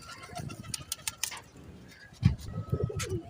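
Pigeons in a loft, four males and one female, give low, throaty coos in short repeated bursts, close and fairly clear with no talking over them.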